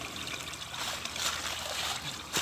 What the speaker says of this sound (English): Just spring water.